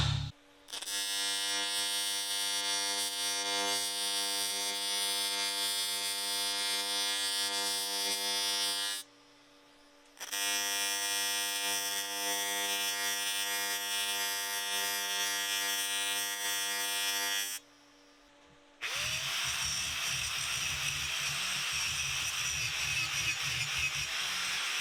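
A TIG welder runs on a cast aluminum part with a steady buzzing, humming arc that holds for long stretches, cuts out briefly twice, and changes to a rougher crackling tone near the end, with no talking.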